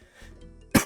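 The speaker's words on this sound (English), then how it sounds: "I'm sorry for coughing" A single sharp cough bursts out at the very end after near silence.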